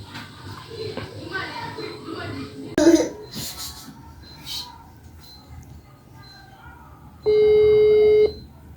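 A phone being dialed in a staged Indonesian drama scene: a faint tap then a steady electronic tone of about a second near the end, over quiet room noise, with no talk over it.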